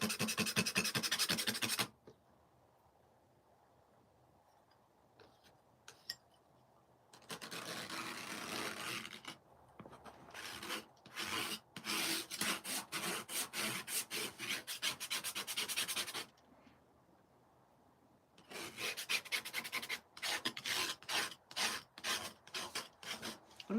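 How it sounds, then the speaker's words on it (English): A tool scratches and rubs across the surface of a gouache and India ink painting in rapid raspy strokes, coming in several bursts separated by quiet pauses. "And just make some cool scratches here."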